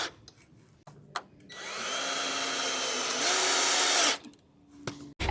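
A power drill drives 1.5-inch connector screws through a post into its base for a backyard gate, a steady whirring run of about three seconds close by, framed by a few knocks and handling clatter.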